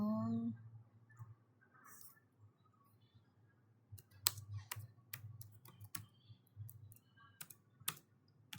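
Quick, light clicks of typing on a computer keyboard come in short irregular bursts after a quiet start, close and faint, with a brief electronic tone at the beginning.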